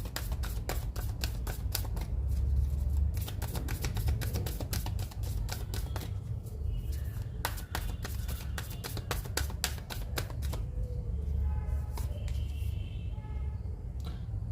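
Tarot cards being shuffled and drawn, a rapid flutter of crisp paper flicks and taps, close and continuous, with a few softer slides near the end.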